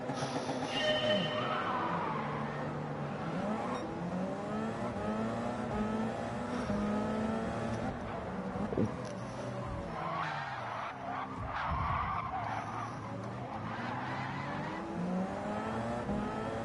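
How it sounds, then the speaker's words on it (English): A race car in Gran Turismo 7 revs hard against the handbrake at the start of an endurance race at Spa, its engine pitch rising and falling in loud sweeping tones, with tire squeal and other cars droning around it. "Handbrake on with enough throttle."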